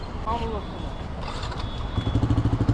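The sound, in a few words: Yamaha R15 V4 motorcycle with Akrapovic full-system replica exhaust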